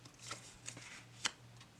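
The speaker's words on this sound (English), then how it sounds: "You can actually riffle shuffle this." A mini tarot deck on linen cardstock is riffle shuffled, giving a soft brief flutter of cards with a few crisp snaps, close and fairly faint.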